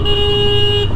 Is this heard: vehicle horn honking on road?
yes